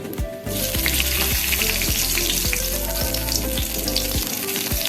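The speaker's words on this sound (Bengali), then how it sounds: "এবার এই তেলে আমি গোটা গরম মশলা ফোড়ন দেবো" Whole garam masala spices (cinnamon, small cloves, cardamom pods and a bay leaf) sizzle steadily in hot oil, a loud, continuous frying hiss with small crackles, close and alone after a brief quiet start.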